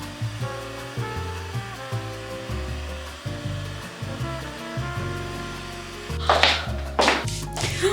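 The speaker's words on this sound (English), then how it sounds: "Heat gun." A heat gun blows hot air onto dress fabric at close range, making a continuous droning whoosh that holds steady throughout, with a few louder gusts near the end and no speech.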